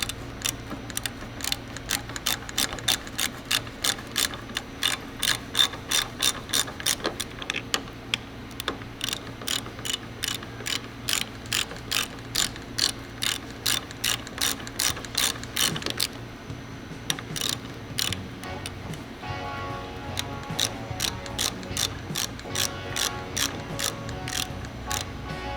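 Ratchet wrench tightening the pinch bolt on 39mm front forks of a 1999-2005 Harley-Davidson Dyna, a long run of rapid, steady clicks close up, with a brief pause near the middle before the clicking resumes.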